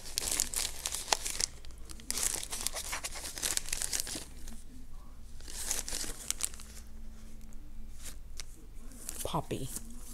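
Paper crumples and crinkles as small craft items such as doilies and stencils are unpacked from a Tuesday Morning haul, with repeated close rustling bursts and tearing-like crackles throughout.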